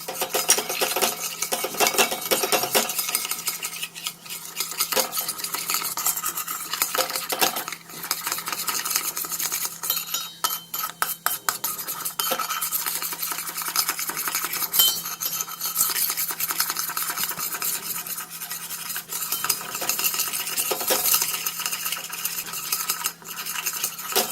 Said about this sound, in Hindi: हम इसमें ये मैदा शामिल करेंगे 2 चम्मच और इसको अच्छी तरह से भून लेंगे